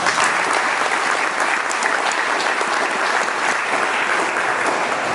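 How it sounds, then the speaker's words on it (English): Employees at a Toyota of Boerne dealership celebration give a new manager a round of applause, a loud, dense, continuous clapping of a crowd that holds steady throughout. "Everybody give Ricardo a round of applause."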